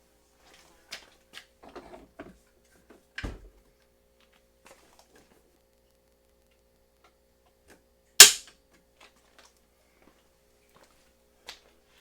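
Dry-fire trigger pull on a Springfield Armory M1A Super Match rifle with a match trigger: a sharp, loud mechanical snap stands alone amid faint scattered clicks and handling noise in a quiet room.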